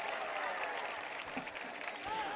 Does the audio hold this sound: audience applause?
yes